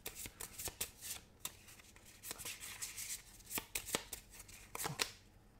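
Close, quiet riffle shuffling of playing cards during a tabletop board game session, heard as a series of sharp crisp flutters and snaps in irregular bursts, with no talking.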